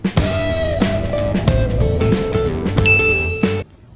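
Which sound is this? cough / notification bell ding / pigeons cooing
notification bell ding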